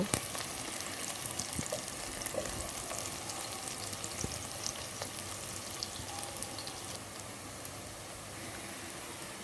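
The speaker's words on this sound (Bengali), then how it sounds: "পেঁয়াজ কুচিগুলো একটু নেড়ে চেড়ে হালকা ব্রাউন কালার হয়ে আসা পর্যন্ত ভেজে নেব" Chopped onions frying in a pan until light brown, a soft steady crackle and sizzle with occasional faint stirring clicks, quiet and without talk.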